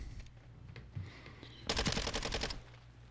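An OG Minibak gun in high-recoil configuration fires in a zombies video game: a few scattered single shots, then a rapid, loud automatic burst of under a second that cuts off abruptly.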